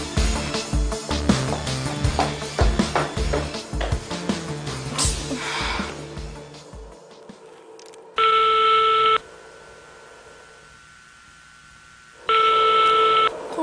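Phone call going unanswered: clattering noise gives way to two long electronic ringing tones separated by a quiet gap, bright and buzzing, with no voice picking up.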